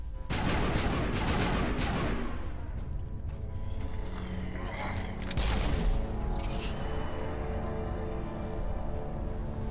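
Sustained rifle gunfire in the sci-fi video game Mass Effect, with rapid overlapping bursts of shots loud at the start, then continuing more sparsely with booms and mechanical ambience.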